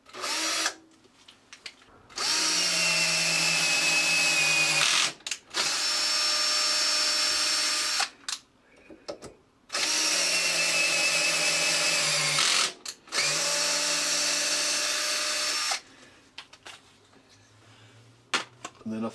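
Power drill countersinking holes in a metal block for a rotary head case, in several loud sustained bursts of whirring separated by short pauses, with no one talking.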